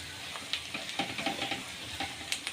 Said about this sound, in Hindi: इसको हम अच्छे से इस तरह से मिक्स कर दे रहे हैं